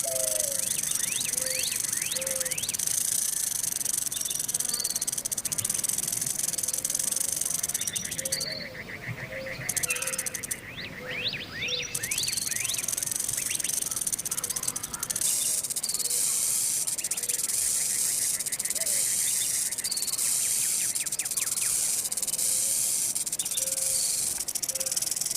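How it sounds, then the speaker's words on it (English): A banded rock rattlesnake rattles in a desert setting, a sustained buzzing hiss that carries across the whole span, with a brief dip partway through, while birds chirp and call repeatedly in the background. "the nervous banded rock rattlesnake rattles loudly when it feels threatened"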